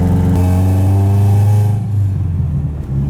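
A Honda Civic with a B20b engine swap drives past close and loud, its engine droning steadily with a rising note before fading and dropping away near the end.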